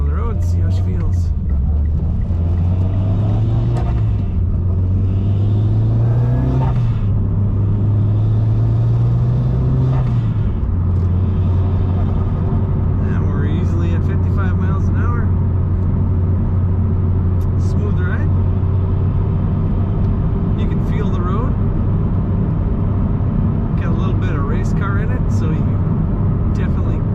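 A 2011 Mitsubishi Lancer Evolution GSR pulls away on the road, its engine note rising and shifting through the first seconds before settling into a steady drone, with a voice talking over it throughout.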